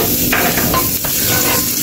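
Chopped garlic frying in about two spoonfuls of hot oil in a pan after tofu was removed, giving a steady loud sizzle with a few stirring scrapes, no voices.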